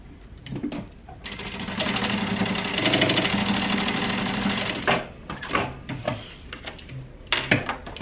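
A sewing machine stitches a seam on a crossbody bag, its rapid needle chatter running in a steady loud burst for a few seconds, then stopping and restarting in short stutters.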